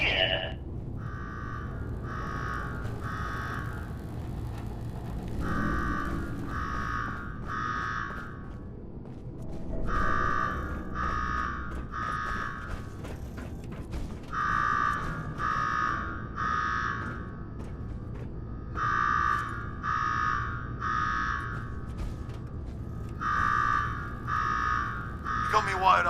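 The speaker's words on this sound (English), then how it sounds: "Now go shut off that damn alarm" Repeating electronic alarm at Nuka-World in the video game Fallout 4, sounding in regular groups of quick, tonal beeps with brief pauses between bursts, fairly loud over a low ambient rumble and occasional game sounds.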